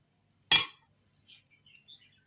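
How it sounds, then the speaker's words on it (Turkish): A spoon taps a glass container while stirring milk with yogurt starter: one bright, close clink, then quiet with a few faint high chirps afterward. "Onu da iyice karıştırıyorum."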